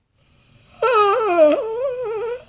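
A person's long, drawn-out voiced yawn on a gliding, wavering tone, close and fairly loud, rising and falling for nearly two seconds before trailing off, with a faint steady high whine underneath.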